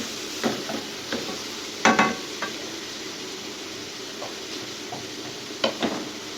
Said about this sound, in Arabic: هنقلبهم مع البصله مع الثوم مع الفلفل لحد ما يتسبكوا كده